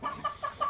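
Dong Tao crossed with Shamo rooster clucking in four short, close calls spaced evenly across less than a second, with no talk.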